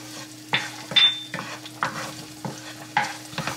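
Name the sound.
ginger and chili flakes cooking in a pan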